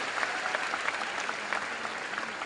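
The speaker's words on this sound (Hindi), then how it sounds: "प्लीज इनके लिए जोरदार ताली हो जाए।" An audience at a business success day event in Delhi claps steadily, a dense continuous round of applause from a crowd that holds even throughout.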